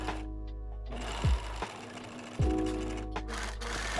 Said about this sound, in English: After cutting the pattern pieces, I sew them together with the straight stitch.